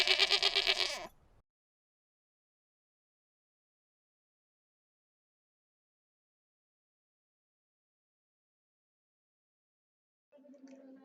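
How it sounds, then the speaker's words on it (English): A sheep lets out a loud, wavering bleat at close range, then a long silence, and a fainter short bleat returns near the end. "S-H-E-E-P. Sheep."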